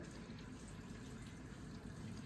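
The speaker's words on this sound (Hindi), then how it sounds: "इनलेट से पानी लेना स्टार्ट करेगा।" An LG top-load fully automatic washing machine takes in water through its inlet, a steady faint rushing and hissing flow with no break, heard on its own.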